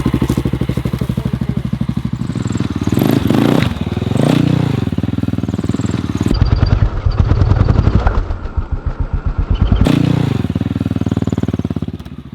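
An XR650L dirt bike engine chugs and revs loudly up close as it rides over an obstacle, with clattering and scraping mixed in and throttle bursts rising and falling.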